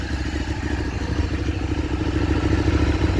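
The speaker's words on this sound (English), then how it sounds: "Bike sounds really good." Ducati Streetfighter motorcycle engine idling and running steadily up close, a loud continuous low rumble with a pulsing mechanical clatter that swells slightly toward the end.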